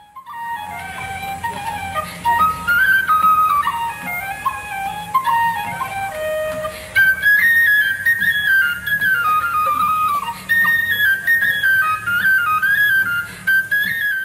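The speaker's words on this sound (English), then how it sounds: "Mairead Walls from Dunloy, playing the tin whistle." A tin whistle, played by Mairead McMahon of Dunloy at a fleadh competition in Ballycastle, County Antrim, in the mid-1980s, carries a quick, ornamented traditional melody alone, clear and close.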